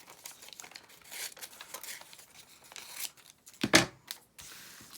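Scissors cut through a glossy magazine page close by, making soft crinkling snips and rustling paper in an irregular rhythm, with one louder crisp slice near the end.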